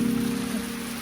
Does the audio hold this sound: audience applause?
no